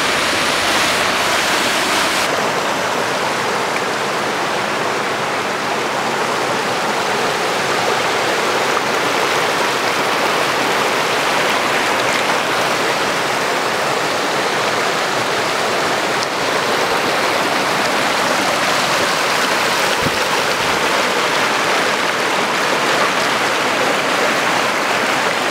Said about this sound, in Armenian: սենց խողովակով թափվում է ու գալիս է ներքև ու միանում է Կարճևան գետին։